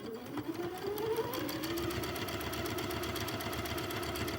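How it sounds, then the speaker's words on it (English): A sewing machine runs steadily, stitching a quarter-inch seam on a quilt, its needle chattering in a fast, even rhythm with a motor hum underneath, loud and close throughout with no pauses. "So we're going to go ahead and stitch 1/4 inch seam allowance here."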